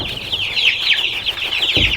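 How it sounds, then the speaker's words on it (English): Meat chickens clucking and chattering while being fed, a close flock keeping up continuous overlapping calls, with a low thump near the end. "These meat birds are looking good."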